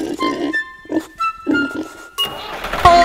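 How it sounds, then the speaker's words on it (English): A pig grunts and oinks in short bursts in a farm-animal nursery song, with musical tones and other noises between the calls. "With a oink oink here and a oink oink there, here an oink, there an oink, everywhere an oink oink"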